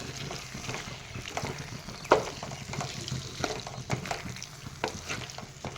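Cumin and chili powder being stir-fried in a pan for mixed vegetable curry: soft sizzling under irregular scraping and tapping of a spatula, with one sharper clack, fairly quiet throughout.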